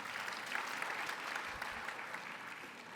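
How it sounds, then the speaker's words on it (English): An audience applauds after a Bharatanatyam dance performance, a steady, fairly faint roar of many hands clapping from a distance, even throughout and easing slightly at the end. "Please give her another round of applause."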